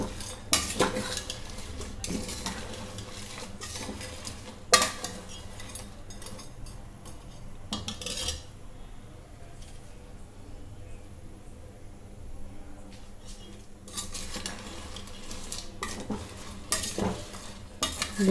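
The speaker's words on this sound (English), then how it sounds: "We have to stir the jaggery once in a while until it gets dissolved into a" Jaggery being stirred in a pan over high flame as it melts into syrup, with scraping spoon strokes and clinks in bursts, a soft sizzle underneath and occasional talk.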